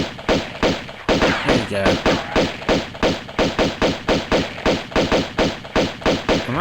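Gunfire in the video game Tomb Raider 2 at the opera house: a loud, close, steady run of repeated heavy shots, evenly spaced about three per second, continuing throughout with a brief spoken word over it.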